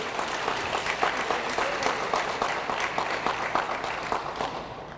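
Sustained applause from an audience at an official announcement of federal funding for The Hope Center, a dense steady patter of clapping lasting the whole stretch with some cheering.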